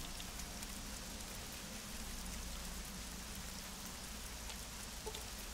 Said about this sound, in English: I'm sick of the rain noise in my head.